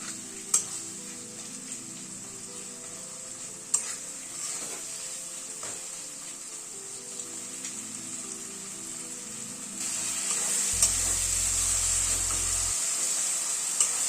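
Tomatoes with salt sizzle steadily in a pan while a utensil stirs and scrapes, with occasional sharp clicks; the frying hiss grows brighter and louder toward the end.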